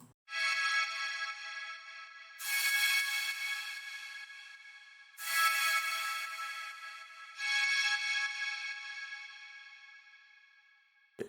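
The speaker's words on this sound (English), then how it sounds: "And now I'll play the pad by itself, followed by the two together," A synth pad holds a steady, bright chord while a white noise layer is switched on and off, giving four alternating bursts of hiss over the sustained tone, with no voices.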